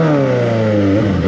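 A Suzuki GSX 750 motorcycle engine revs hard with the throttle held, a loud, close, steady whine whose pitch sags slightly, with no voices.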